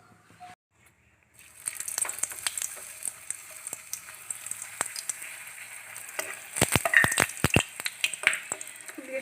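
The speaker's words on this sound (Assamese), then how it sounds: "এতিয়া মই এখন এখনকৈ ফ্ৰাই কৰি যাম।" Fuchka (pani puri) puris fry one by one in smoking hot oil in a pan, a steady sizzle with bursts of sharp crackles and pops that grow busier as more dough goes in.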